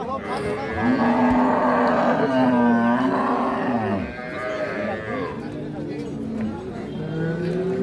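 A cow with her calf at Ambari cattle market, lowing in long, loud, drawn-out calls close by, mixed with market voices and human talk.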